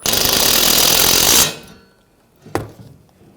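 A power driver buzzes loudly for over a second, running screws down on the AC condenser of a 2004-2012 Chevrolet Colorado 3.7L, then stops, followed by one short clack.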